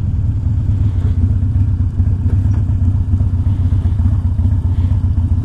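A warmed-up, carbureted 2001 Harley Davidson Dyna Wide Glide idles close by, with a steady, loping, lumpy low thump that stays even throughout and has no voices over it.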